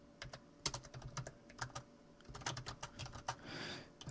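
Typing a line of VBA code on a computer keyboard, a quick irregular run of close, quiet key clicks with short pauses, ending in a longer soft press.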